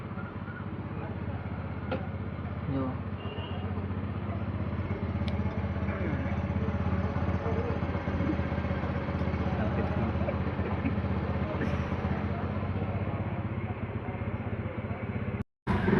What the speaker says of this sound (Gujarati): કાકાએ એક્ટિવા ચાલુ કરી છે